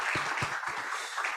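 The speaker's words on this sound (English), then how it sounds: "Let's give a round of applause to Prof." Short burst of audience applause for Prof. Purnomo Yusgiantoro at the Global Human Capital Summit 2022, a fairly faint, dense patter of many hands clapping.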